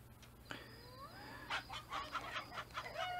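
Chickens clucking in the video game Fable Anniversary, a short run of several bright clucks and squawks in quick succession over faint background game ambience.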